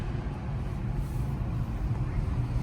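Steady low road rumble of buses and passing traffic outside a hotel, continuous and moderately loud with no distinct single pass-by standing out.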